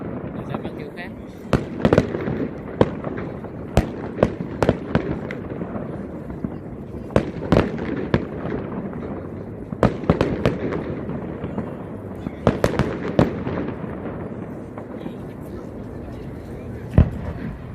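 Fireworks burst one after another on a Saturday night in Australia, with sharp loud bangs at irregular intervals over a steady crackling and rumbling background, while people talk nearby.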